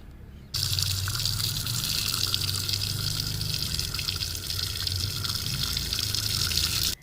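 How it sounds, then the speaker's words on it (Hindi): Water gushes steadily from a tap into a small bucket, starting abruptly and running as a continuous loud, hissing pour with no voices over it. "अब आइए मैं इसमें पानी भर लेती हूँ।"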